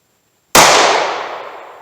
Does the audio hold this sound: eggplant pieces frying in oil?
no